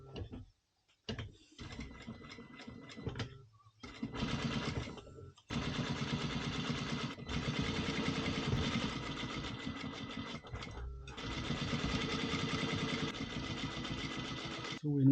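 A domestic sewing machine stitches the sleeve of a stretchy softshell jacket in quick rattling bursts, stopping and starting several times with short pauses between runs, close and fairly loud.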